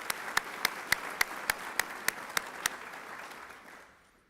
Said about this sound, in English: Let's give these students another round of applause, please.